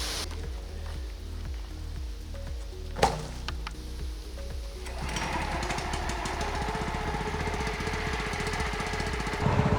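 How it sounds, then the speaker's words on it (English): Engines on a firewood processor and conveyor idle as they warm up outdoors, a steady chugging, knocking rhythm that grows louder and rougher halfway through, with a sharp knock near the middle. "We're letting the engines warm up right now."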